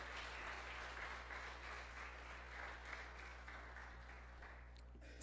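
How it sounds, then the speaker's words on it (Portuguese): A church congregation applauds during a sermon, a soft, steady patter of distant clapping over a strong low hum, fairly faint throughout. "Você pode aplaudir ao Senhor?"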